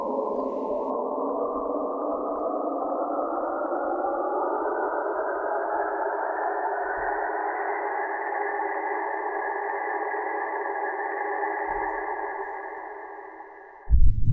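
Saturn space sound sample played as an instrument, a steady droning tone with a wobbly, slowly rising pitch and hollow echoing character, sustained alone for about fourteen seconds before cutting off.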